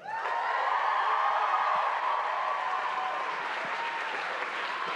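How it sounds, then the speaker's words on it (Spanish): An audience at the Pixelatl 2022 festival gives sustained, loud applause to welcome a speaker to the stage, a dense and steady wash of clapping with faint crowd noise that eases slightly toward the end. "Quiero el más fuerte y caluroso de los aplausos y bienvenida para la directora de arte, Andrea Fernández."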